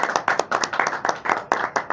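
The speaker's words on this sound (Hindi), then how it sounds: "एक बार मैं अपने सारे फाउंडर्स को कहूंगा एक बार सर का जोरदार स्वागत करें तालियों के साथ" Audience clapping at a business event, a steady burst of many hands applauding close by for about two seconds with no talk over it.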